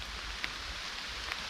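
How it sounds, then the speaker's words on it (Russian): Heavy downpour pours in a continuous, even roar at a dugout shelter, with a couple of faint louder drops standing out briefly. "Дождь льет практически как из ведра."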